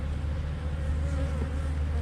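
Honey bees hum in an open hive where the frames hold mostly nectar, a steady close drone with a low fundamental that continues evenly throughout, no voices.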